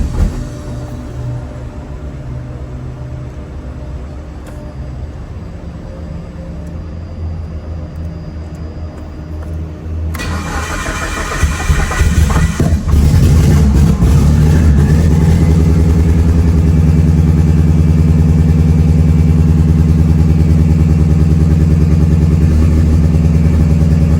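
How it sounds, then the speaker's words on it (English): A big-turbo Mitsubishi Evo on a dyno cranks and idles roughly, then surges louder around the midpoint into a steady, heavy, uneven rumble from a misfire, close and loud throughout. "Car's misfiring."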